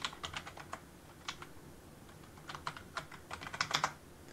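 Someone types a login ID and password on a computer keyboard in uneven clusters of light, crisp keystrokes with short pauses between bursts, growing busier toward the end, with no voices.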